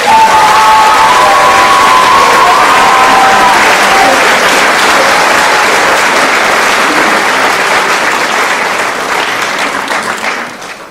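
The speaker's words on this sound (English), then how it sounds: "Have a round of applause for 8th grade." A crowd applauds and cheers for 8th grade graduates at a school moving-up ceremony, loud, dense, sustained clapping with a few whistles and shouts that slowly fades toward the end.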